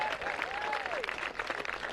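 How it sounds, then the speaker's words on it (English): A crowd at a varsity high school baseball game applauds a player, broad continuous clapping and cheering with a faint voice sliding through it. "Ladies and gentlemen, another round of applause for number 14, Caleb Clower."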